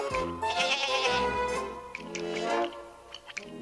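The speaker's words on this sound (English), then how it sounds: "How many times have I told you, no goats in the castle?" A cartoon goat bleats inside a castle, several wavering, nasal cries in quick succession, loud and close, followed by a few light clicks.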